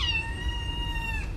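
A single drawn-out, whiny meow from a house cat, close and clear, holding a steady pitch over a low background hum before tapering off.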